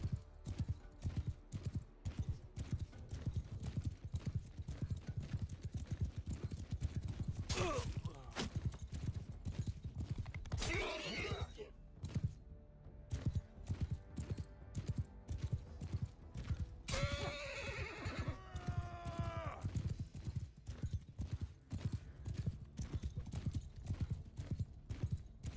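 Horse hooves clip-clop in a steady, dense rhythm throughout a Mount and Blade 2 Bannerlord battle or town scene, with a couple of neighs and whinnies rising over the hoofbeats; no talking.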